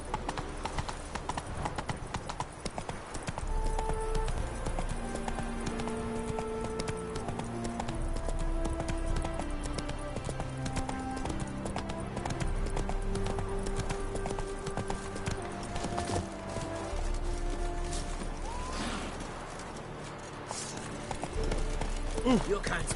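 Roach, a horse in The Witcher 3, gallops with steady rapid hoofbeats under game music, continuing throughout with a brief pause near the end.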